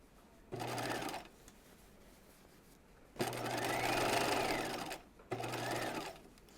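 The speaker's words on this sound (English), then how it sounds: "I'm going to stitch as close as I can to that center front notch point." A sewing machine stitches the seams of a raglan top in three separate runs, short, longer, then short, each a steady close whirr with quiet pauses between and no talking.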